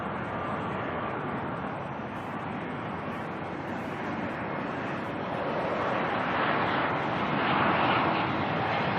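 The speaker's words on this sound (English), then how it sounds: "That ATR there heading off to Tauranga." An ATR turboprop airliner departs Auckland airport, a steady broadband engine roar that builds gradually and grows louder toward the end.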